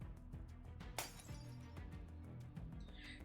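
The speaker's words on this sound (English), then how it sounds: "There is a resounding crack. It must be the sound of the glass structures breaking." Glass structures cracking and breaking in a video game, a sharp shattering crack followed by scattered clinks over a low rumbling game background, faint overall.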